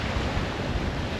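Ocean waves wash up on Higgins Beach, a steady broadband rush of surf with some wind noise on the microphone throughout.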